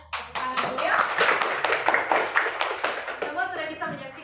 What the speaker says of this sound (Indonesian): Ya, tepuk tangan dulu ya.